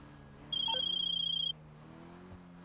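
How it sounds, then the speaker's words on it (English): A phone rings once in the GTA V Online video game: a single steady electronic trill lasting about a second, fairly clear over quiet background sound. "You'll get a phone call explaining what to do."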